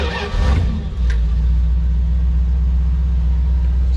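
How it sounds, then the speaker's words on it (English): FMC XR-311 Humvee prototype engine revving briefly and loudly up close, then the throttle eases off and it drops to a steady low rumbling idle. "You know, just slowly let off the throttle, and then it'll idle good."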